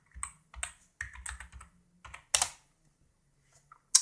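Keys on an iMac keyboard are tapped to enter a login password: a few quick clusters of close, crisp clicks separated by short pauses, ending with a single firmer press.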